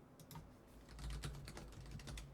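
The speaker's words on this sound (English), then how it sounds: "I really like the way this keyboard types." Rapid keystrokes on a computer keyboard at a new gaming setup, a steady close clatter of individual clicks with no talking.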